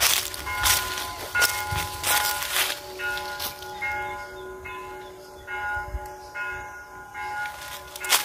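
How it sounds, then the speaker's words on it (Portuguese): Church bell at a former seminary beside an abandoned prison in Brazil, tolling at six o'clock with repeated ringing strikes and sustained humming tones throughout, fairly close, with no talk. "E o sino da igreja tocando agora."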